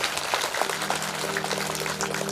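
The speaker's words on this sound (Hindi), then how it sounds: "एक बार तालियां जोर से।" An audience at a Shiv Mahapuran katha in a Panchmukhi Mahadev temple in Karsog claps loudly, a dense, steady wash of many hands that runs without a break.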